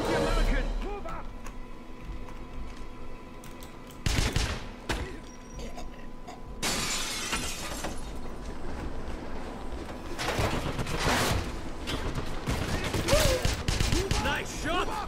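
Gunfire in the Wolfenstein 2 first-person shooter, several loud bursts of shots scattered through a busy game soundtrack, with voices talking over the action.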